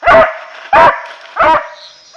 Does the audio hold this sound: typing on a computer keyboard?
no